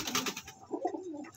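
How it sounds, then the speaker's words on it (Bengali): Andhra breed pigeons kept for sale coo softly nearby, one low rolling coo following a brief burst of fluttering noise. "পায়রাগুলো খুব সুন্দর"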